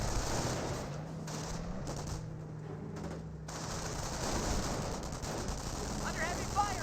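Bursts of rapid machine-gun fire and scattered rifle shots crackle in a Company of Heroes battle, with a commentator's voice running over them in the foreground.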